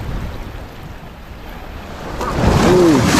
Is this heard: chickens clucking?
no